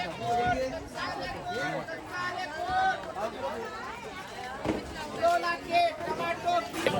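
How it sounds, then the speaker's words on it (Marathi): Shoppers crowd the Achra weekly market amid stalls of vegetables and Ganesh festival supplies, a continuous babble of many voices with occasional closer exclamations rising and falling. A speaker talks close by above the throng. "आचराचो आठवडी बाजार त्याच्यामुळे गर्दी खूप आहे"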